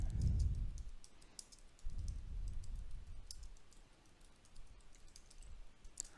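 Soft, quick keystrokes on a computer keyboard tap out a new paragraph in irregular bursts, close and quiet, with faint low thumps from the desk beneath.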